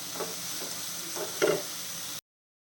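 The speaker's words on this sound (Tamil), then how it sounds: "நல்லா வதங்கட்டும் ஒரு ரெண்டு நிமிஷம் வதங்கும் போது தக்காளி வந்து நல்லா மசிஞ்சிடும்" Tomatoes sauté in a pan with a constant, close sizzle and a few soft stirring taps, one slightly louder scrape midway, then silence.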